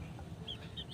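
A brother's pet chickens, with young chicks nearby, cluck softly at close range, giving a few short, high-pitched peeps and clucks over a low background hum, quiet and brief.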